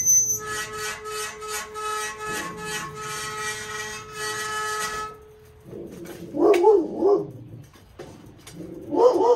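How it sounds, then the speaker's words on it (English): A dog barks several times nearby in a home metal-casting workshop, sharp barks standing out after a steady tonal hum fades away. "My dog's barking"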